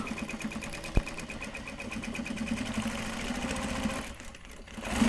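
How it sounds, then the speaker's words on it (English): A sewing machine runs in a steady, fast stitching whir while it sews stiff, ornamented Japanese obi fabric. A single sharp knock comes near the start, and the motor slows briefly before picking up again at the end. "Let's sew."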